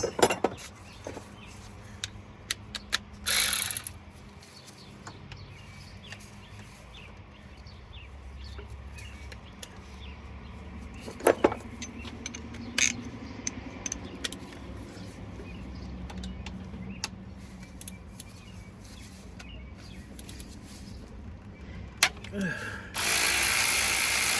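A socket ratchet works loose a bolt while a Cummins 6.7 diesel injection pump is being changed. It clicks in short, close bursts between pauses and faint shop background.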